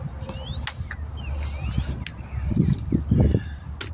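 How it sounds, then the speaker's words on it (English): Metallic clicks and ratcheting of a 5/8 wrench working loose an idler pulley on a 2016 Dodge Journey engine during alternator removal, close and steady with scraping, clanking tool sounds. "Get this idler pulley off here. Get a 5/8 wrench."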